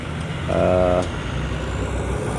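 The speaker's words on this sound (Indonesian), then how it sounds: "banyak sekali truk yang antri di sana" Trucks hauling gravel and sand queue at a toll road construction site. Their engines rumble steadily, and a brief horn toot sounds near the start.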